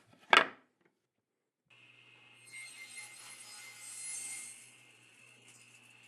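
A single sharp knock, then a short pause, then a few seconds of faint, close rasping saw strokes cutting through a wooden dowel, alone.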